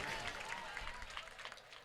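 Audience applause at a live Gujarati comedy and folk storytelling show, a steady wash of clapping from a crowd, moderately loud and continuous throughout the short burst.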